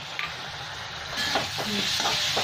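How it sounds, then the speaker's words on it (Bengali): Vegetables frying in a pan for Bengali fish curry with potato and eggplant, a soft steady sizzle that grows louder partway through, with faint stirring scrapes near the pan. "এখানে সবজিগুলো ভাজা হচ্ছে"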